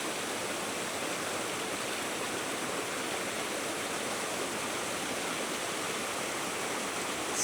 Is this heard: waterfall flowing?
yes